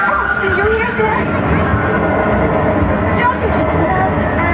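Subway train passing as a theme park effect, a loud rumbling rail roar with squealing tones, heard close with people talking over it.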